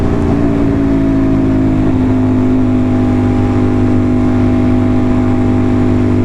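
An Aprilia RS660 motorcycle fitted with an SC Project exhaust accelerating on a night ride, producing a loud, continuous, close engine drone that holds steady throughout with no talking.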